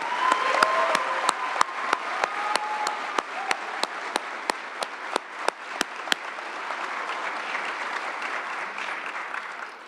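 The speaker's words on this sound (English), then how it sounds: "Ladies and gentlemen, please give these cadets a round of applause" Applause for police academy cadets at their graduation ceremony, dense crowd clapping with a few loud nearby hand claps punctuating the first two-thirds before the clapping thins into a softer continuous patter.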